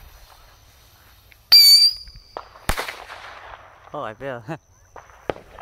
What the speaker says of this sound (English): So let's start with these little rockets to do a test.